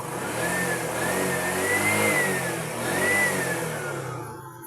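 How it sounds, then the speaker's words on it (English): A tricycle engine revs up and down as the throttle is worked, a continuous mid-pitched motor drone with rising and falling whine, loud and close, easing off at the end, with no talking. "When you get to reverse, then you throttle it."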